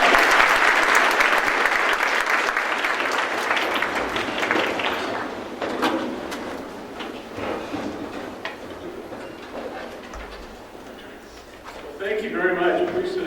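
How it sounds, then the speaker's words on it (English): An audience applauds the mayor of San Diego at a school event, loud dense clapping that gradually thins and fades, with voices rising near the end. "Let's give him a round of applause"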